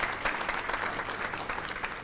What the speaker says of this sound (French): On applaudit pour Narcisse